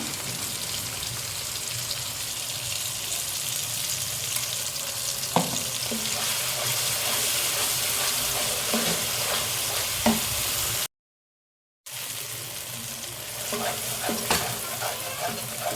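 Cashew paste for a Hyderabad-style vegetable kurma fries in oil in a pan over a medium flame while being stirred, giving a steady close sizzle broken by scraping stir strokes, with no talking. About a second of silence comes near the end.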